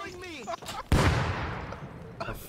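Explosion in the video game Rust, a sudden loud blast that decays into a rumbling, crackling tail, preceded by speech from a streamer.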